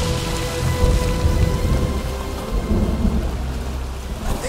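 Thunderstorm at sea in an animated adventure: heavy, steady rain pours throughout while deep thunder rumbles underneath, loud and continuous, with no voices.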